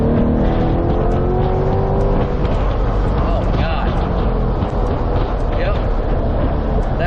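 A broken-in 2023 C8 Corvette HTC 70th Anniversary in Z mode roars loudly while driving, its engine rising in pitch through sustained revs, heard from inside the car with a dense, continuous growl.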